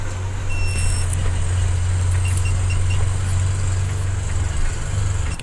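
A truck loaded with heavy steel straining uphill onto a parking ramp, its engine droning loud and steady with a deep low rumble and no talk.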